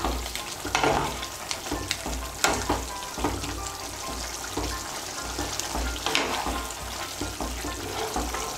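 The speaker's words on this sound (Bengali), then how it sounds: "গরম মশলার গুঁড়োটা মিশিয়ে নেব।" Garam masala powder is stirred into a soybean curry frying in a pan, giving a steady sizzle with repeated scraping strokes of a spoon close by and no talk.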